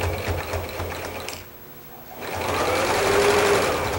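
Sewing machine stitching the border seams of a pieced quilt, a steady close mechanical whir that pauses briefly, then resumes.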